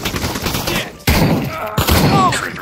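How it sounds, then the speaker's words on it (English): Shotgun blasts in the VR shooter Pavlov, two or three sharp, loud reports in quick succession, each followed by a short ringing tail. "He's learning how to use shotguns."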